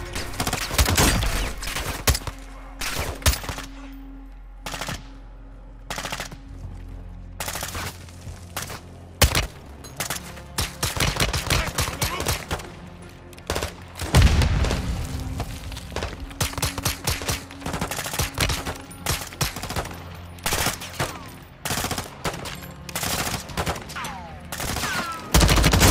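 Heavy turret fire rattles in sustained bursts during a Call of Duty Modern Warfare 2 prison mission, loud and close, with sharp cracks, thuds and scattered gunshots between the volleys.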